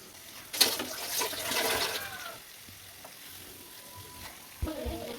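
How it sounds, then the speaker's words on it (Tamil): Chicken sizzles and crackles in a hot pan over medium flame with a soft hiss, with occasional clinks and stirring noises. "இப்போ இதையும் மீடியம் ஃப்ளேமில் வச்சு நல்லா பொரிச்சு எடுத்துக்கலாம்."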